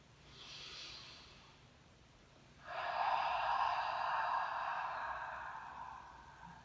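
A deep full breath taken during a gentle yoga flow: a soft inhale, a pause, then a longer, louder exhale through the nose or mouth that fades slowly, close and alone.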